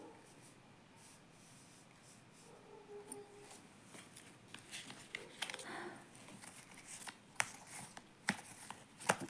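Tarot cards are laid out and turned over, with soft irregular slaps, flicks and rustles of card stock on a surface. They are close and quiet and grow busier toward the end, with a faint voice in the background.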